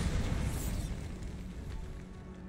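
A booming magical Bombarda spell blast in a video game, a loud broadband rumble that starts strong and slowly decays over a couple of seconds.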